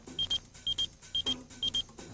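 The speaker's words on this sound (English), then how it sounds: "I just got beeped. I got to make a phone call." Four pairs of short, high electronic pager beeps repeat at a steady rhythm, each pair close and clear above a low background hum with no talking.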